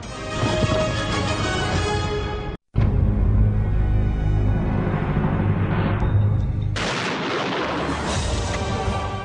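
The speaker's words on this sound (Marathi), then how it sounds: "गार्द्यांच्या तोफांनी कमाल केली." Cannon and artillery fire in a Panipat battle scene: continuous heavy booming and rumbling volleys, loud and dense, broken by a brief silent gap, then a sharper crackling barrage toward the end, with no voices.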